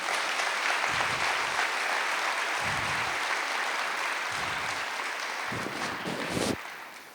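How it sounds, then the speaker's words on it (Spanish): A church congregation gives sustained applause during a sermon, a steady, loud wash of clapping that carries on throughout and thins slightly at the very end, with no one speaking over it. "Dele un aplauso al Señor."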